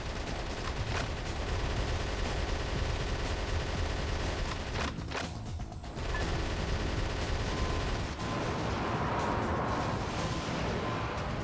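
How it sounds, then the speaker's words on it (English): Sustained gunfire sprays toward the player in Metal Wolf Chaos XD: a dense, continuous rattle of shots with brief dips and crashes, fairly loud and steady across the whole stretch, with no talking. "Who is shooting at me?"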